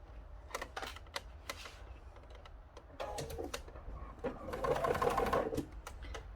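A domestic sewing machine stitches along the folded edge of a fabric tab, running in quick rattling bursts that build into a faster, denser run toward the end, close up with no voices.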